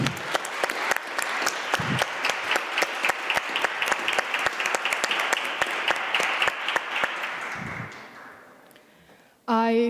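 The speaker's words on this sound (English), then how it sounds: "ask you for a round of warm applause to the representatives of FEPS, Amicus Europae, and Friedrich Ebert Stiftung" An audience at a Warsaw policy conference applauds with sustained, even clapping that holds steady for several seconds and then fades, before a speaker's amplified voice returns at the close.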